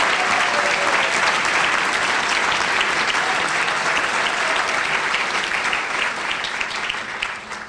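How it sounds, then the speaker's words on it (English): Audience applause at an award presentation fills the whole stretch: a dense, steady round of clapping that stays loud throughout and only begins to thin slightly near the end. "So please, can we give her a round of applause?"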